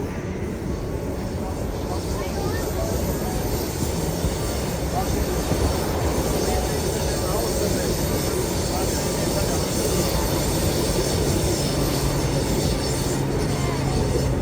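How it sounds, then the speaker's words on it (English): A steady, continuous rumble of a train rolling by at a distance on Sydney Harbour Bridge, with faint talk and a high whine above the broad low roar throughout. "There's a train going."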